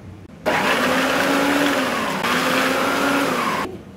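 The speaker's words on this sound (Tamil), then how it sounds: "சாப்பரில் போட்டு போகிறேன். நல்லா ஃபைன் சாப் பண்ணிக்க போகிறேன்." A small electric food chopper motor whirs steadily for about three seconds, a high buzzing hum with a brief dip midway, starting and stopping abruptly.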